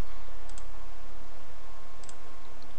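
A computer mouse clicks in photo album maker software, two quick double-clicks about a second and a half apart, sharp and close over a steady faint hum, with no talking.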